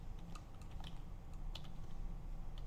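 Rapid keystrokes clatter on a computer keyboard while code is typed, with bursts of sharp clicks standing out over a steady low background hum, close and fairly quiet with no talking.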